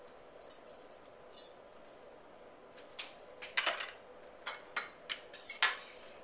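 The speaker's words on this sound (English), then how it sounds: "I'm just going to mix. Get all the sausage out of my whisk." A whisk clinks against a bowl while mixing an egg and browned sausage mixture for a breakfast casserole, giving quiet scattered taps that build into quicker, louder clusters near the end.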